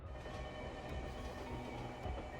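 A train arrives at a station with a faint, distant rumbling clatter of rolling carriages that holds steady throughout.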